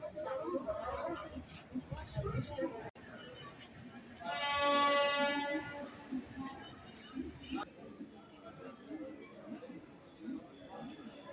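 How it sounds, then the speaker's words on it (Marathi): An Andheri to Churchgate women's special Mumbai local train runs along with a faint rumble. One sustained horn blast sounds midway, and passengers chatter quietly around it. "चर्चगेटला जाणारी महिलांसाठी विशेष भेटी लोकल आहे"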